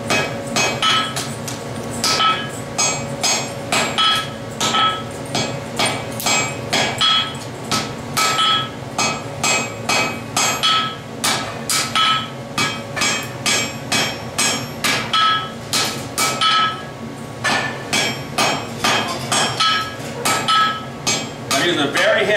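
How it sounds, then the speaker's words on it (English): A very heavy hammer forges down the edge of a metal piece, striking in steady, evenly spaced ringing blows that repeat close up for the whole stretch. "I'm using a very heavy hammer because I don't need a lot of power, but I need a lot of control"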